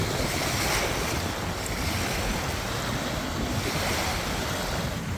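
Waves wash continuously onto a beach strewn with plastic waste, steady and fairly loud with rushing surf and wind noise on the microphone, with no voices over it.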